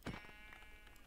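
A single short sheep bleat in Minecraft at the start, fairly close, followed by a quiet steady hum.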